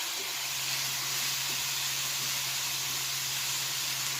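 Cut-up sweet potatoes sizzle in a hot pan as they are stirred, a steady bright hiss that carries on evenly throughout with a faint low hum beneath.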